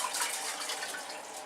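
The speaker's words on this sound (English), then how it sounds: "You add water to the pot." Water pours steadily into a cooking pot while plantain moi moi is being prepared, a continuous close hiss-like splash of running water with no talking.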